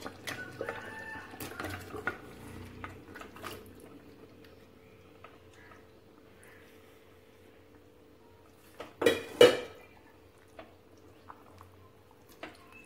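Chicken pieces drop into a simmering pot of curry, giving a cluster of wet plops and splashes over a quiet, steady kitchen hum, with small drips before and after.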